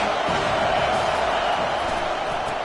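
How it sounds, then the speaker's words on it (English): Stadium crowd in a Madden/NCAA football video game, a dense continuous roar and murmur of many voices at steady loudness throughout. "This crowd trying to make life miserable for this offense."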